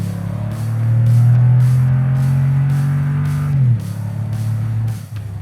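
A Toyota Tundra TRD Pro V8 with TRD exhaust, a deep, loud exhaust rumble that swells as revs rise and hold, then drops back to idle, with no voices.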